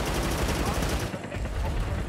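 Gunfire from the World War 3 game crackles in rapid, dense bursts, a loud continuous clatter that briefly dips before resuming. A voice talks over the shooting.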